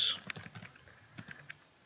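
Commands are typed on a computer keyboard, a quick irregular run of soft, close key clicks that thins out toward the end, with a voice speaking over it.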